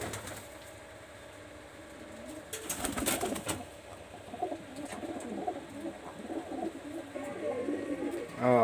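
Pakistani high-flyer Teddy pigeons, a pair with their single chick, coo softly and intermittently, with a burst of flapping or rustling midway and a faint voice in the background.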